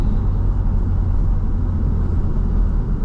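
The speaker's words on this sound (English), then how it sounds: "So you can hear the tires chirp in between the shifts there." BMW Z4 M engine pulling hard through the gears on a public street, a loud continuous low rumble with steady road noise and no clear gaps for the tire chirps between shifts.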